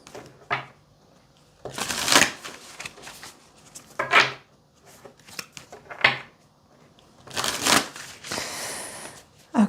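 Oracle cards shuffled and drawn from a deck, giving several bursts of crisp riffling and slapping separated by short pauses, close and fairly loud, with no talking.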